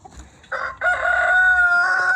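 A voice imitates a rooster's crow: a loud, long, wavering cry that starts with a short burst and then holds steady, close by, with no talk.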